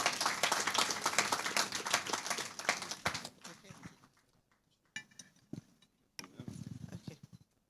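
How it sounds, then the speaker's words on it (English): An audience applauds during an award presentation at a young lawyers' forum summit. Dense clapping fills the first few seconds, then fades into quieter room noise, with scattered clinks and a voice speaking. "There's a round of applause."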